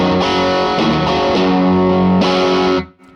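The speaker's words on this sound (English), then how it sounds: "go over to the more British side of the amp and get, as expected, big distortion out of EL-34" A heavily distorted electric guitar rings out loud chords through a 65 Amps tube amp with EL-34 tubes, sustaining thickly before cutting off abruptly near the end.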